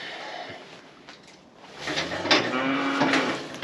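Heifers moo in a winter barn, a couple of drawn-out bellows sounding after a quiet start, set against faint barn clatter and low murmurs.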